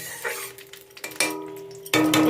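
Bay leaves and whole garam masala frying in ghee in a pan, with clinking and stirring of utensils against the pot and a soft sizzle beneath, louder bursts near the end.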